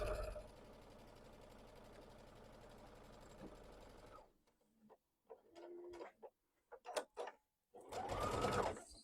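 A home sewing machine stitches steadily and loudly with a fast, even mechanical clatter for about four seconds, then stops; afterward come brief handling knocks and short bursts of sound at close range, with no one speaking.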